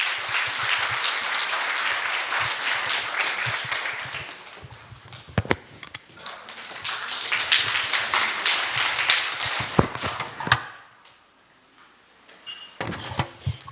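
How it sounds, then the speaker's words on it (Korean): A church audience applauds to welcome a speaker, sustained clapping that swells, dips and swells again, with a few sharp thuds, before stopping abruptly and briefly resuming. "우리 나오실 때 박수로 환영해 주시기 바랍니다."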